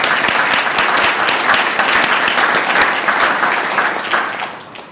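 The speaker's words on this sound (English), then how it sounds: "Let's give them another round of applause" Sustained applause from an audience at a city council meeting, dense and loud throughout, tapering off slightly in the final second.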